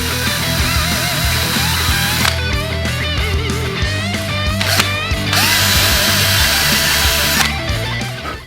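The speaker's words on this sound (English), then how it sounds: "I can drill those 2 tiny holes I mentioned earlier for the guide pins" A power drill bores two small guide-pin holes into a guitar body, giving a loud close whine interrupted by rattling, ratcheting bursts and pitch shifts as the bit bites and stalls, with no voices.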